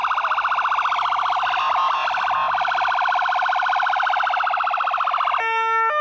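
A police car siren wails loud and close for several seconds, steady and unbroken, during a police intervention at an illegal street racing and drifting gathering, ending in a shift to a different siren tone.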